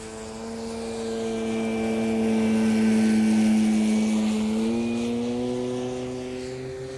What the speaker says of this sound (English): It's a brilliant flying airplane and a brilliant looking airplane.